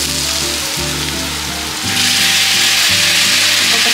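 Onions frying in a pan with soy sauce, a loud close sizzle that swells sharply about halfway through into a bright, dense crackle, with no one talking.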